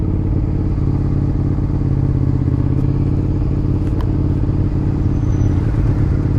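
A Suzuki SV1000 V-twin motorcycle with twin exhausts rides by amid steady city traffic, its engine blending into a loud continuous rumble with a few faint clicks on top.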